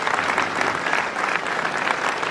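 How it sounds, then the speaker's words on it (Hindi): An audience at a success celebration gives a burst of loud, dense applause for their guru, many hands clapping steadily and close throughout. "हमारे गुरुजी अमित दुबे सर के लिए जोरदार ताली बननी चाहिए"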